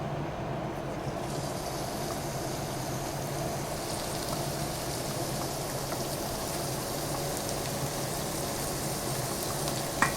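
Food sizzles and fries steadily in a hot pan in a hotel kitchen in Florence while a white ragù is being cooked, a dense, even hiss that stays close and constant throughout with no voices.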